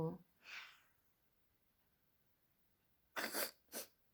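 A woman sneezes twice in quick succession, two sharp close bursts, after a small earlier breath or sniff; it happens while she is eating cherries indoors.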